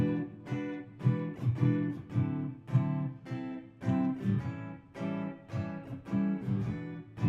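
Strummed guitar chords in a steady shuffling rhythm, moving through the last four bars of a 12-bar blues turnaround, played alone and close.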